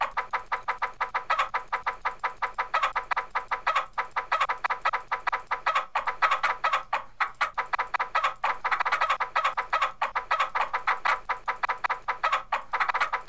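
A flock of chickens clucks continuously in the game Plague M.D., a dense, rapid stream of overlapping clucks at steady loudness with a faint low hum underneath.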